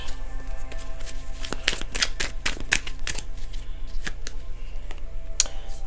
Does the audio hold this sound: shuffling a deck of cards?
yes